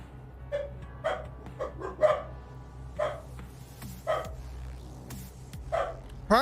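Several dogs barking indoors during a truck-simulator livestream, sharp separate barks and yips repeating about once a second, fairly near, with a faint hum underneath.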